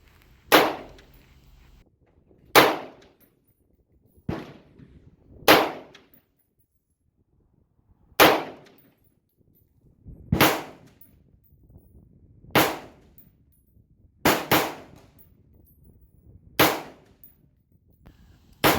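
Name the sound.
Del Ton AR-15 rifle firing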